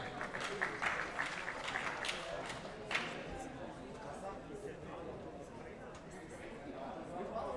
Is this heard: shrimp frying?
no